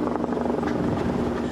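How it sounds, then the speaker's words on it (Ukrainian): Firefighting helicopters working over a wildfire near residential buildings, heard as a steady, loud broadband rotor roar with a faint chop running throughout the clip. "Під ними стоять пожежні машини, гамують стихію за допомогою гелікоптерів."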